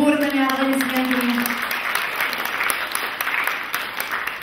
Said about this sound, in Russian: Давайте поприветствуем их бурными аплодисментами.